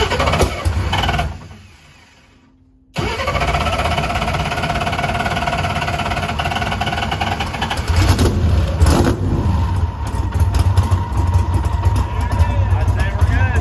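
The Leroy drag car's engine cranks briefly, falls silent for a moment, then catches and runs steadily with a rough, loud idle and a rising rev toward the end.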